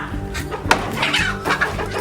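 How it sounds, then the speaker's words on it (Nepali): A red local rooster on a farm clucking nearby in short bursts of throaty calls, loud and close, with no one talking. "यो चाहिँ लोकल भाले"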